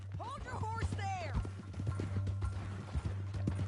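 Horse hooves clip-clop steadily in Red Dead Redemption 2, a run of quick, moderately close impacts beneath a low constant hum, with voices talking over them.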